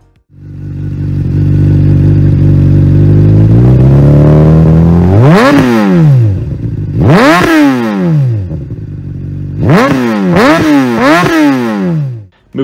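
A 2008 Honda CBR600RR with a carbon fiber Yoshimura SR5 slip-on exhaust idles with a deep, throaty note, then revs sharply several times in quick bursts, very close.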